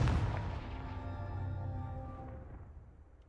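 A Confringo fire spell blast in Hogwarts Legacy hits as one heavy, close burst, then fades into a slowly decaying fiery rumble with a ringing tail.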